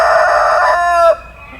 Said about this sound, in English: That's a blue copper Morans.